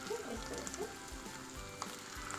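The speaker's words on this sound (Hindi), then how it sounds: "और अब मैंने फ्राई पैन में ऑयल गर्म होने रख दिया था और अब हम इसमें एक एक करके डाल देते हैं" Potato samosa rings fry in hot oil in a pan, giving a close, steady sizzle with soft crackles and light pops throughout.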